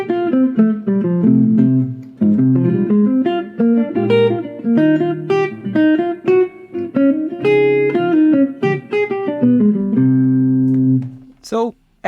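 Jazz arpeggios built on a 1-2-3-5 pattern run in quick successive note groups over sustained low chords, a continuous melodic passage that ends abruptly with a brief noise.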